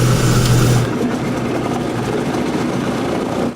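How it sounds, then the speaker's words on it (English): The four engines of a B-17 bomber in flight make a loud, steady, buzzing drone heard from inside the aircraft. It shifts slightly in tone after the first second and then holds constant. "The four engines are loud"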